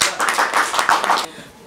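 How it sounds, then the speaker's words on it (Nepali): An audience at a donation announcement bursts into brisk, even clapping that runs about a second before cutting off abruptly, with a voice mixed in. "उहाँलाई जोरदार ताली"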